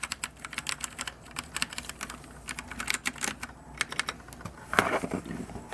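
Rapid clicking keystrokes on a Royal Kludge RK71 wireless mechanical keyboard, close and crisp, in an uneven typing rhythm with a heavier clack near the end.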